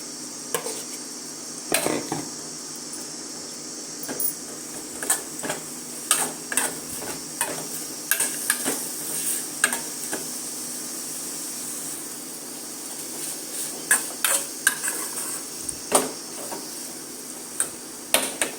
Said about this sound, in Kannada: ಬೇಯಿಸ್ಕೊಂಡಿರೋಂಥ ತೊಂಡೆಕಾಯಿನ ಸೇರಿಸ್ತಾ ಇದ್ದೀನಿ.